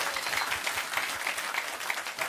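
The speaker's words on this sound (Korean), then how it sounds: "박수 한번 보내주시기 바랍니다." Sustained applause from a studio audience at a live public broadcast of a Korean political talk show, dense steady clapping with no pauses.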